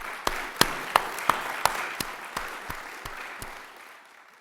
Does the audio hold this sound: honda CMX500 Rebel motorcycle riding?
no